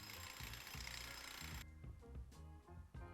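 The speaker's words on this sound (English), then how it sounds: "I'll drill out some holes in my base." A power drill bores holes into a sculpture base, with a sustained whirring run followed by a series of short, uneven bursts and knocks, close and fairly quiet.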